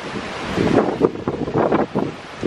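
Ocean waves wash in and out beside a waterfront villa in Tulum, with gusting wind buffeting the microphone in uneven surges, no voices.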